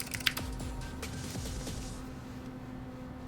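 A few quick keystrokes on a Tofu acrylic mechanical keyboard fitted with Tealios switches clack close by in a short burst, then trail off into quiet room tone with a faint steady hum.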